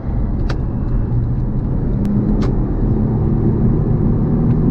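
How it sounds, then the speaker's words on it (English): Porsche Panamera 3.6 accelerating at full throttle on the road, a loud, steady engine roar heard from inside the car with rumbling low tones and a few brief clicks, no talk. "like I floored the car, right?"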